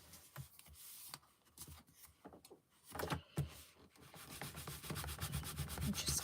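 Rubber stamps are scrubbed clean on a Stamp and Scrub pad, giving bursts of brisk rubbing and scraping. The strokes grow steadier and louder toward the end, with no voices.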